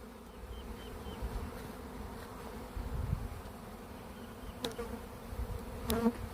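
Bees buzz in a continuous swarm, a low, wavering drone that swells and fades slightly, with a few faint clicks near the end.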